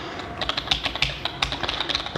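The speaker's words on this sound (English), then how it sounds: "We have a mechanical keyboard." Close, steady typing on the mechanical keyboard of an MNT Reform 11-inch laptop, fitted with Cherry MX low-profile switches, each keystroke a crisp clack in an uneven, quick rhythm, with no voices.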